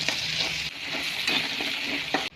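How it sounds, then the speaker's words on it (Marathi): Tomatoes sauté with salt in hot oil, a dense steady sizzle broken by a few spoon scrapes and taps against the pan, close and with no voices. "त्याच तेलामध्ये आपण टोमॅटो परतून घेऊ"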